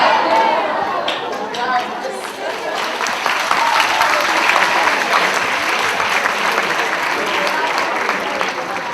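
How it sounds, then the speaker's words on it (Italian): Sustained audience applause fills a hall at a motivational talk, dense and steady throughout with a faint murmur of voices mixed in. "Grazie dell'applauso"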